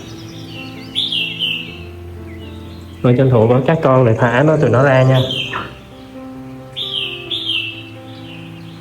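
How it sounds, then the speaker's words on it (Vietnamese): Small caged birds, young ones practising their song, chirp and tweet in repeated bursts near a fish farm, heard alongside someone talking in Vietnamese throughout. "Mấy con chim mà nó kêu ồn quá, nó đang tập hót"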